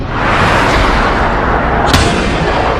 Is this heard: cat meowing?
no